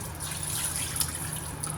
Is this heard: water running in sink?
yes